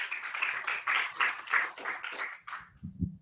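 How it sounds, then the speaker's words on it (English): A small audience at a university research program's final presentations gives a short, fairly quiet round of applause for a presenter, the clapping fading out within about three seconds. "If everyone give a round of applause."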